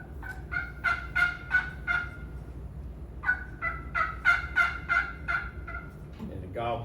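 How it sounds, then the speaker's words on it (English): Hen turkey calling in a repeated series of short yelps, about six notes, a pause, then another run of seven or so, moderately close and clear over low background noise, with a brief different call at the end. "this is a hen"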